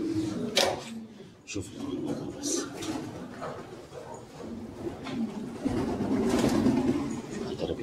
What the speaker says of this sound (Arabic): انا سامع العصافير عندك